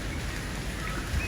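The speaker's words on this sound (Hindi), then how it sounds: "बारिश शुरू हो गई है, इतनी मोटी मोटी कनियाँ पड़ रही हैं।" Heavy rain begins to fall in big drops outdoors at Liberty Market in Lahore, making a steady close hiss and patter with occasional louder hits and no talking.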